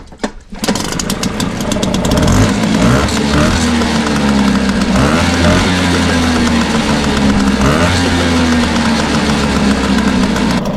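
A Hangkai outboard motor catches after a pull start with the choke out, then settles into a steady, loud, close idle with a slight wavering rhythm that continues throughout.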